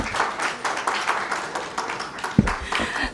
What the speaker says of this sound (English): Another round of applause for the PS MSMEs.